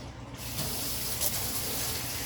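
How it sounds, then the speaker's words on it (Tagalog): Water is poured into a hot pan of frying pork chops, starting abruptly and continuing as a steady, broad sizzling rush close by. "Ang gagawin mo, maglagay ka ng tubig."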